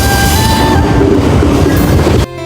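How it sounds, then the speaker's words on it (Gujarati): A passenger train pulls away from Bhildi station on the way to Ranuja, its cars rumbling steadily on the tracks with a brief whistle or horn tone early on, loud and close throughout with no talking. "એટલામાં તો ટ્રેન ઉપડી ગઈ"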